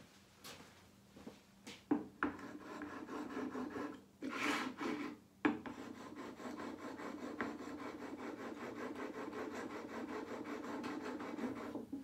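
A gouged woodworking chisel is ground on a sharpening stone in a jig, producing close, continuous gritty rasping strokes after a few scattered knocks at the start.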